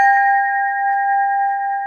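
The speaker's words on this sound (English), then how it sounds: "I'm going to ring our Liberty Bell for you." A replica Liberty Bell, made to the original's specifications, rings once with a clear struck onset, then holds a steady bright tone that sustains loudly with little decay and no talk.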